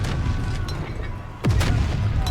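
Cannon fire from pirate gun towers defending a cove in the strategy game Corsair Cove: a loud, deep booming blast lands midway over a rumbling game soundtrack, its low tail sweeping downward.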